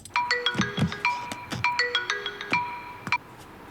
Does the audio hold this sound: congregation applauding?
no